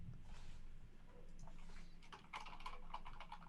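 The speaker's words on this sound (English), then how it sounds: "And you hear typing." Soft keyboard typing, quiet and fairly close: light, irregular key clicks that grow busier toward the end over a low room hum.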